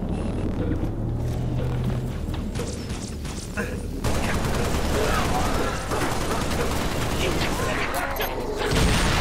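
Gunfire in the video game Halo Reach, a dense run of rapid shots and mechanical clatter that continues throughout at steady loudness with busy game noise behind it.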